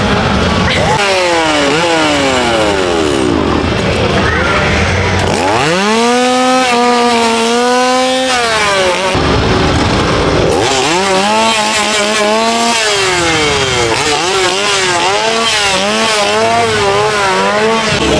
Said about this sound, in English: you walk right into chainsaws